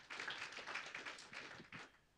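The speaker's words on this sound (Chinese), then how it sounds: "掌声欢迎" Audience applause welcoming a speaker at a Hong Kong–Shenzhen investment forum, a faint, quick patter of clapping from a small crowd that fades after about two seconds.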